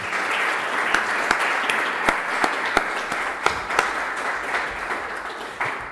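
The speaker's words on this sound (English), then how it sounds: "the one which I ask you to welcome with a round of applause, Professor Emmanuel Bondy" A lecture-hall audience gives sustained, steady applause with a few sharper individual claps standing out, welcoming Professor Emmanuel Bondy to an academic talk on the Alliance of Sahel States.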